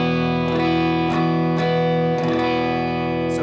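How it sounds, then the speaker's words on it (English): A Gretsch electric guitar played with a clean amp tone, several strummed chords ringing out one after another with sustained, evenly loud notes. "this would be just your basic clean sound with the Gretsch"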